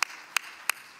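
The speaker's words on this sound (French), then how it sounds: "Si tout le monde est d'accord, s'il vous plaît, applaudissez" Four crisp, evenly spaced hand claps ring out at a meeting, each a sharp isolated snap with quiet gaps between, sounding like a single pair of hands rather than a full crowd.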